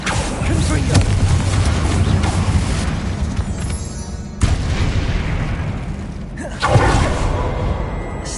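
Confringo blasting spell explosions in a wizard video game: a dense, booming rumble of magical blasts runs throughout, with sharper bursts near the middle and again later, over a continuous game soundscape.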